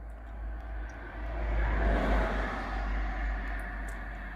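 An MG EHS hybrid's engine runs at a steady idle with a low, constant hum and a slight swell in the middle, heard from close by with no talk over it.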